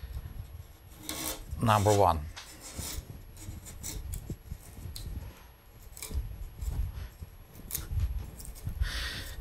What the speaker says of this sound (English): always easiest way in this stage would be just to use a skew